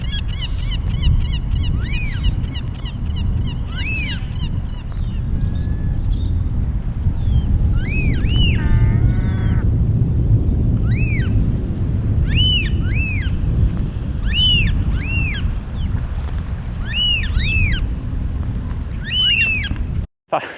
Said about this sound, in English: they're making this loud whooping sound